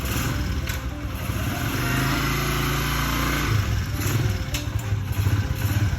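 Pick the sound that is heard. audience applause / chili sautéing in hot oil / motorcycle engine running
motorcycle engine running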